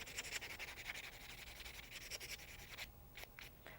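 Thick artificial nail tips are filed and buffed with a rough-grit file, a quiet, rapid back-and-forth scratching that continues steadily throughout, with a few separate strokes toward the end.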